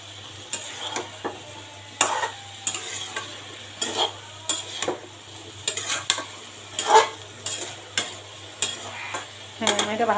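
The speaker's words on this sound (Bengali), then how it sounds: "হ্যাঁ, আমি এটা ভালো করে 5 মিনিট কষাবো" Masala and dried lentil dumplings (bori) stir-frying in a pan for a fish curry, with a quiet background sizzle and a series of close spatula scrapes and clinks at an irregular rhythm.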